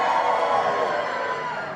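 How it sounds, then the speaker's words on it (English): A big crowd in a holiday-camp entertainment room cheers and whoops loudly on cue, a dense roar of voices that holds steady for the whole stretch and fades only slightly at the end. "This side of the room, give us a big cheer."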